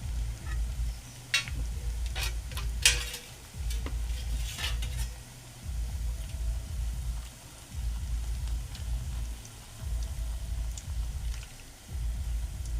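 Bottle gourd bhaji fritters frying in oil give a steady, close crackling sizzle that runs throughout, with a few sharp utensil clinks over it and no talk.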